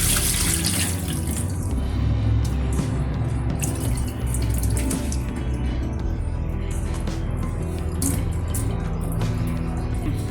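Raw fish is rinsed under a running kitchen tap: a steady, close splash of water pouring and spattering for the whole stretch, with no voices.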